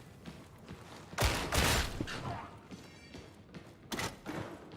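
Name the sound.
sniper gunshots in the video game Darktide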